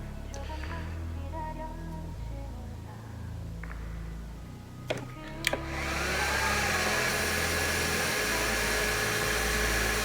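Heat gun shrinking heat shrink tubing on a LiPo battery charging harness, a steady loud airy blowing roar that jumps up partway through and holds, with a few faint clicks beforehand and no talking.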